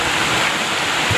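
Heavy monsoon rain pouring down on a village, a dense, loud, unbroken hiss of falling water close by with no talking.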